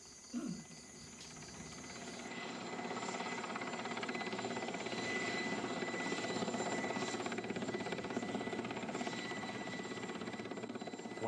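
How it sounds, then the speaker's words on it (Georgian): A helicopter is heard in Cambodia as a steady, droning rotor and engine hum. It grows slightly louder and holds at a moderate distance for about ten seconds, with faint insects in the background and no talk. "ვერტმფრენი უნდა დასვან?"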